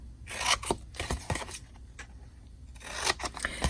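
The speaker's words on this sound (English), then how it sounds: "we're going to cut up to the score line on both sides" Scissors snip through paper up to a score line on a craft project, a series of close crisp cuts and rustles in two clustered bursts with a quieter pause between.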